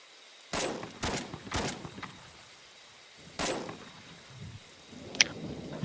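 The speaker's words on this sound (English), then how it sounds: "Alright, I'm now going to fire 2 times." Gunfire from a weapon in the video game BRM5: three quick loud shots close together, then one more after a pause, each with a short echoing tail, followed by faint handling noise and a brief click.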